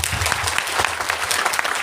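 Steady, loud applause from an audience at a Gurugram business event, dense clapping filling the whole stretch without voices.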